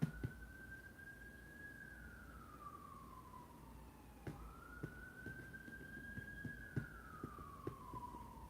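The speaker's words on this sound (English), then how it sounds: "Sirens." A distant wailing siren rising and falling in two long sweeps, with faint clicks and background hum.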